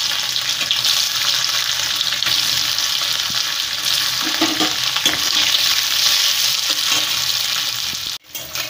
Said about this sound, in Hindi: तेल गरम होने के बाद में हम इसमें पनीर डालेंगे, इस तरह कर लेंगे। अब पनीर को पहले फ्राई कर लेंगे।